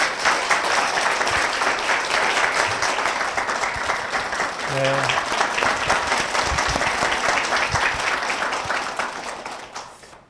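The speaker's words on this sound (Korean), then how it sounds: "박수를 맞아주십시오" A church congregation breaks into sustained applause, a continuous patter of many hands clapping together across the whole stretch, while a voice speaks briefly over it.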